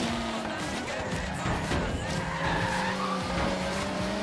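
Car tires skid and squeal loudly under late, hard braking in the racing game Forza Horizon 3, a sustained screech over a steady engine roar.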